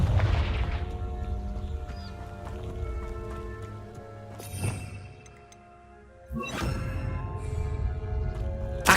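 A Confringo spell blast from the Hogwarts Legacy video game bursts out loud at about the middle, followed by a second explosive impact, over a steady layer of game music and ambience.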